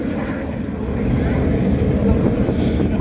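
English Electric Canberra jet bomber roaring past at an air display, a broad, loud, continuous engine rumble that swells slightly, with a commentator talking over it.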